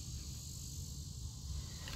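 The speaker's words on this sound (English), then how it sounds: "You hear it? That's the cicada." A cicada sings far off in a steady, unbroken high buzzing drone that stays faint and even throughout, with no voices.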